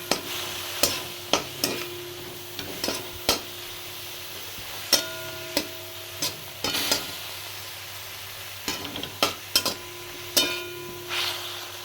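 Ground bottle gourd leaf paste fries in a pan on a gas stove: a low, soft sizzle underneath sharp, repeated clinks and scrapes of a spatula stirring against the pan.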